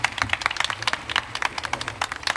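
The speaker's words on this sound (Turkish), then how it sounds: "Alkış hak ediyor" Scattered applause from a small group at a university shake table test, individual claps clearly audible in a quick, uneven patter throughout.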